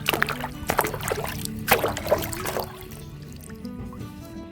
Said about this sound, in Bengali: জলে এবার ধুয়ে দিন